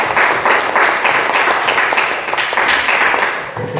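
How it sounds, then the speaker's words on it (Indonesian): Students in a classroom lesson applaud a group, a dense, fairly close burst of clapping that swells in pulses before thinning out. "boleh tepuk tangan sekali lagi untuk kelompok 1 boleh?"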